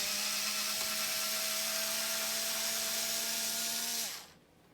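Power screwdriver backing screws out of a KitchenAid Pro 600 stand mixer, a steady loud whine held for about four seconds before it winds down and stops.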